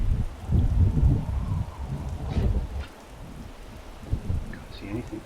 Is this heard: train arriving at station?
no